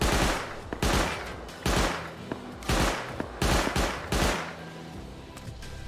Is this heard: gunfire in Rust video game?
yes